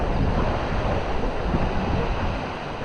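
Ocean waves wash onto a Welsh shore in a steady rushing surf, with wind buffeting the microphone and no talk.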